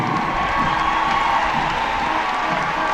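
Crowd at a national Independence Day parade in Trinidad and Tobago applauding and cheering for a passing drill team, a dense, steady wash of clapping and shouts with a distant announcer's voice under it.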